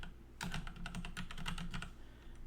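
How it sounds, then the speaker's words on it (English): Quiet, rapid keystrokes patter from a Freewrite, a digital writing keyboard built to look like a typewriter, in a steady burst of close clicks with no talking. "there's a keyboard that I use called the free write, which is, it looks like a typewriter, but it's digital"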